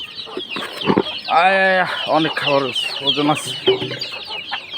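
Backyard chickens being fed homemade low-cost feed cluck and squawk loudly up close, with repeated drawn-out calls and short clucks, while a person speaks briefly.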